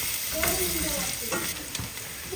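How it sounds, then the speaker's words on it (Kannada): Onions frying in hot oil, a loud continuous sizzle close up, broken by a few quick scraping strokes of a spoon stirring through the pan. "ಈರುಳ್ಳಿ ಹಾಕ್ಕೊಂಬಿಟ್ಟು ಚೆನ್ನಾಗಿ ಒಂದು ಎರಡರಿಂದ ಮೂರು ನಿಮಿಷ ಈರುಳ್ಳಿ ಸ್ವಲ್ಪ ಚೆನ್ನಾಗಿ ಟ್ರಾನ್ಸ್ಪರೆಂಟ್ ಕಲರ್ ಬರೋ ತನಕ ಹುರ್ಕೊಬೇಕು"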